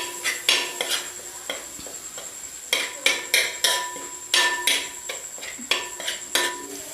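Spices being stirred in a hot pan, with a series of sharp metallic knocks and scrapes from a spoon striking the pan in an irregular rhythm over a faint sizzle, close and loud, no voices.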